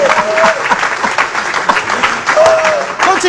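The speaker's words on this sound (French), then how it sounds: "Ça mérite des acclamations et des amens ici" A church congregation cheers and claps during a reverend's sermon; loud, continuous applause mixed with scattered shouts and voices, swelling and dipping slightly but never stopping.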